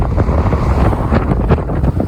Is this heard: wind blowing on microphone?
yes